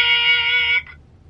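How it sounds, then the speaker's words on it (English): An answering machine beep in the video game The Wolf Among Us: one steady, loud electronic tone held for most of a second and then cut off, followed by quiet. "leave a message at the beep and we'll get back to you as soon as"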